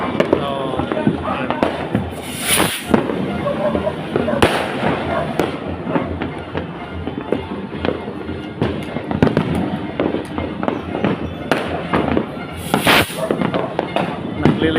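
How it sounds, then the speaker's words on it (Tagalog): Fireworks burst over a town center on New Year's Eve 2025, thousands of pieces going off in a steady stream of crackling pops and louder booms, with people talking throughout. "nagliliwanag na po ang kalangitan dahil po sa firework na binibitiwan na thousands pieces"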